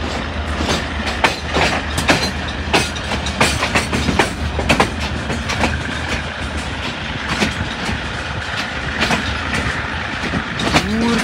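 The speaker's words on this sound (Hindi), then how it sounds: "दूर पे GMC 15 के ज़बरदस्त जगिंग साउंड आ रहे हैं। और साथ ही के हल्के ट्रैक साउंड" A passenger express train hauled by a GMC 15 diesel locomotive rolls past in Pakistan with a rhythmic clatter of wheels over rail joints, and a low diesel rumble underneath throughout.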